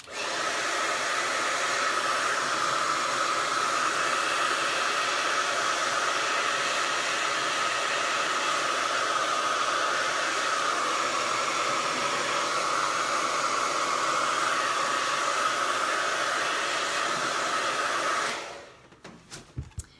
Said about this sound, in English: let's go ahead and dry just a little bit with the hair dryer